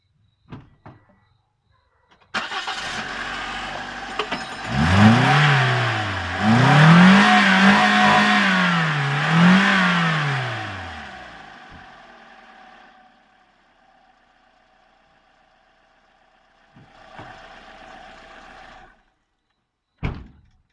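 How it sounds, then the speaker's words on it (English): A car engine cranks and catches after a spark plug replacement, revs up and down in a few swells, then settles into a quieter smooth idle, close by, with a door or lid knock near the end and no speech. "As you can hear, our vehicle has ignited without rough ignition. Also, the idling is not rough."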